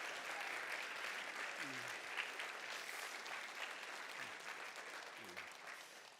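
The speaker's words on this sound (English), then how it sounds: "A round of applause for all of the teams so far." An audience at a startup pitch showcase applauds the competing teams, a soft, distant wash of steady clapping heard faintly, with a few brief low voices underneath.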